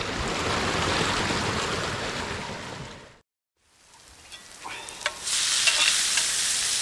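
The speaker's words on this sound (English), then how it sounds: "for lunch I'm just frying up a bit of chilli and onion and some butter there" Steady, close sizzling of chilli and onion frying in butter in a pan, a dense hiss that cuts out briefly, then returns brighter with a few pops and crackles.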